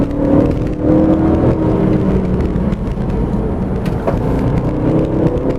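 A Jaguar XFR-S supercharged V8 roars loudly and steadily, heard on board, with a steady high-pitched supercharger whine layered on top, revving continuously at close range on a winding road.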